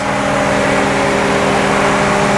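A 2017 Ford F150 Black Ops Edition truck engine runs smoothly at a steady idle. A close, loud, even drone with a low humming tone holds constant throughout, with no voices.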